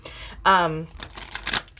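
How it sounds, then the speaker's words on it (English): A deck of tarot cards is shuffled by hand in a quiet room: a short vocal sound comes first, then a series of crisp riffling card bursts, close and moderately loud. "I need to shuffle a couple more times, actually."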